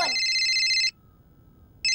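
A telephone ringtone rings loudly in two bursts, a long electronic warble that stops, then starts again after a pause of about a second, with no talking.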